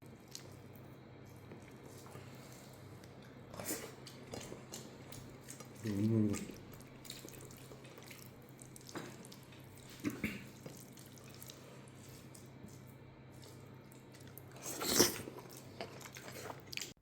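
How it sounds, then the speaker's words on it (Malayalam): Rice mixed by hand with sambar broth and eaten with a piece of dried fish, giving soft wet squishing and chewing sounds with a few louder bites, close up and intermittent over a quiet background. "ഇനി കുറച്ച് സാമ്പാറിൻ്റെ കുറച്ച് ചാറ് ആ ചോറിലോട്ട് ഒഴിച്ച് കുഴച്ചിട്ടൊന്ന് കഴിച്ചു നോക്കട്ടെ."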